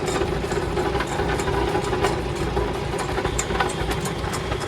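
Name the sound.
Farmall tractor engine running with PTO driving cyclone spreader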